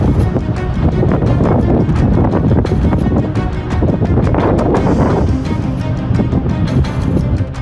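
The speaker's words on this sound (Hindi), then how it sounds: "तेज गति से चलती हवाएं लपटों को और भयावह बना रही हैं।" Strong wind drives a wildfire across Los Angeles County, a loud, continuous broadband roar of gusting air buffeting the microphone with no let-up and no voices.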